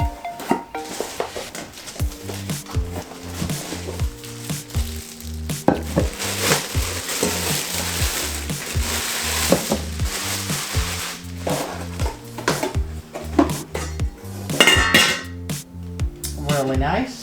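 An All-Clad D3 stainless steel 5.5-quart Dutch oven and its domed lid are handled, with occasional metallic clanks and knocks over steady rhythmic background music.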